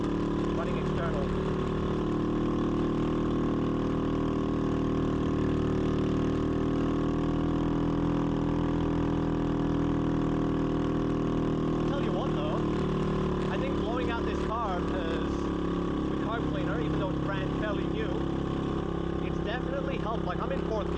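A motorcycle engine runs steadily through a ride, a continuous loud drone with shifting pitch, recorded up close while a rider talks over it now and then.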